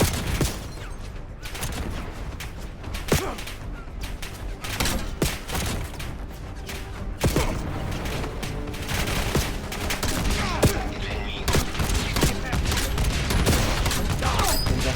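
Sustained gunfire from Call of Duty Black Ops 7, dense bursts of automatic weapon shots and occasional booms running continuously and loud throughout, with a voice speaking briefly in the mix.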